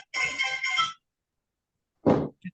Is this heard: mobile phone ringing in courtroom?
yes